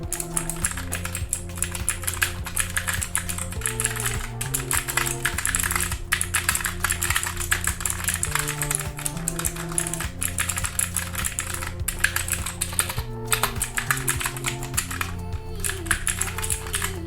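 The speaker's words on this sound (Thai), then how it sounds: "เป็นบลูสวิตนะครับ ผมบลูสวิตนะครับเดี๋ยวมาฟังเสียงกัน" Fast, loud clicky typing on a Tsunami Outemu MK-68 Max mechanical keyboard with blue switches, continuous and close, with soft music tones playing underneath.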